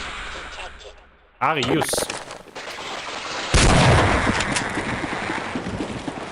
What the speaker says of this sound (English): just shoot him with grenades